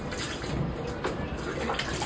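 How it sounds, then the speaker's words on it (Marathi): Water from a bucket splashes onto sun-dried potted plants in a continuous, close rushing pour that lasts the whole short stretch. "चला आता मी पटापट झाडांना पाणी टाकून घेते."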